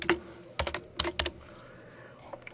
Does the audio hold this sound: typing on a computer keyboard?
yes